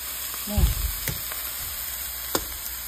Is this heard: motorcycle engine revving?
no